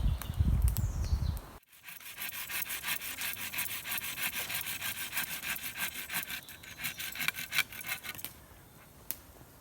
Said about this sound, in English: let's get more sawing